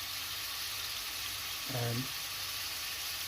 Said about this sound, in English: That oil is now hot, so we're just going to put the meat in there, and you can see it's just slowly starting to sizzle